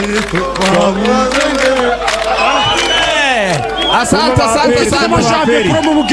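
A packed stadium crowd of APR football fans roaring and chanting together, a loud continuous swell of voices with shouts and whistles rising out of the din.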